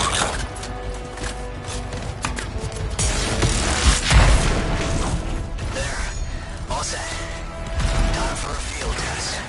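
A canister explosion trap in a video game goes off in a loud booming burst midway, among mechanical clanks and rumbling game sounds.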